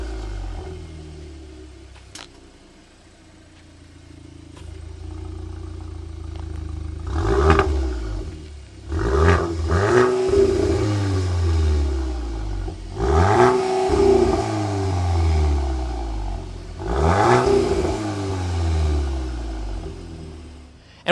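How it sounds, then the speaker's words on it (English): A 2026 Volkswagen Golf R's adaptive Akrapovic exhaust revs repeatedly, four or five sharp climbs in pitch that drop back to a burbling idle, loud and close. "you have the special adaptive Akrapovic exhaust."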